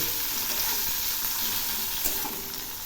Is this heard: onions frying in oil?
yes